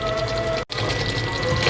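Water pours steadily into a cooking pot of spiced rice base while making Thai khao mok, a continuous splashing stream with a brief break partway through, close and fairly loud.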